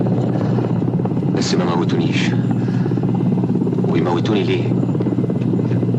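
An Israeli helicopter flies over a desert in a radio drama scene, its steady low rotor drone loud and continuous beneath a man's dialogue.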